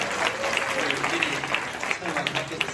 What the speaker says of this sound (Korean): 다음에 크게 박수를 한번 드리겠습니다